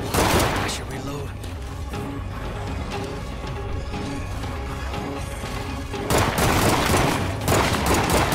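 Gunfire in the video game State of Decay comes as dense, rapid shots in two heavy volleys with a busier stretch of mechanical clatter between them.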